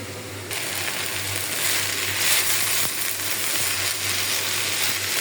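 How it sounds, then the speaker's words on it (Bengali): Jute leaves fry in a wok-style pan, giving a steady, close, fairly loud hiss of sizzling oil that starts abruptly and continues evenly without speech. "এখন আমি ভাজি করে নিই পাট শাকটা"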